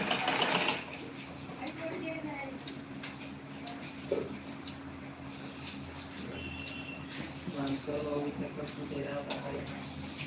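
A sewing machine stitching a blouse runs in the background, a faint mechanical whir beneath a home livestream, with someone talking over it and occasional knocks.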